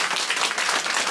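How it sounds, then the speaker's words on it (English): A crowd at a football day applauds, dense continuous clapping from many hands, fairly loud and close, filling the short moment. "a big round of applause for Dylan, everyone."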